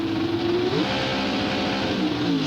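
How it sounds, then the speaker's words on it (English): Loud Pro Stock drag racing engines, a Holden and a Pontiac, rumble and rise in pitch as the revs climb at the 1995 ANDRA Drag Racing Nationals, a dense, roaring drone filling the whole stretch with no talking. "listen to the revs, they'll start to build"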